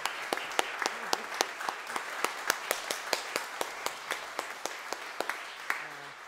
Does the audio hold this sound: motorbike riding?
no